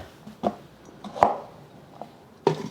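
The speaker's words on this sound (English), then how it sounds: "So I'm gonna cut it up just into quarters." A knife chops through an onion on a cutting board, cutting it into quarters: three or four crisp, separate cuts spaced about a second apart, fairly close and quiet, with no talking.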